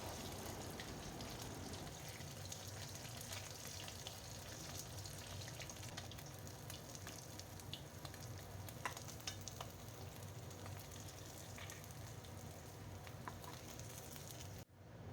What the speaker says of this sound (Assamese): এয়া আমাৰ মাছ ফ্ৰাইখিনি হৈ গৈছে প্ৰায়